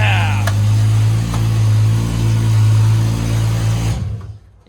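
A Toyota 2JZ engine idles at a strong, steady hum with a firm low drone, then cuts off and fades into silence at the end.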